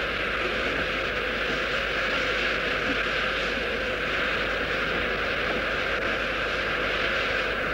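The vintage 1838 steam locomotive Lion runs with a steady, unbroken roar and rumble that holds at an even loudness throughout, with no voices over it.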